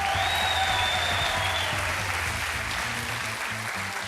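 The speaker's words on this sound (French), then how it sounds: "Merci d'accueillir un tonnerre d'applaudissements à David Stone." Dense applause from a theatre audience at a magic show, steady and loud throughout, with faint music or rhythmic thumps underneath.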